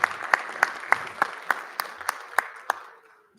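Audience applause at a school board meeting for a student honoree: a steady patter of many hands with a few sharp, close claps standing out, tapering away to quiet by the end.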